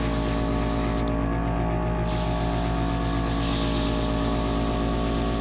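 Continuous hissing spray from an airbrush laying down a coat of paint, steady and close, over a constant pulsing compressor hum, with a brief break in the hiss about a second in.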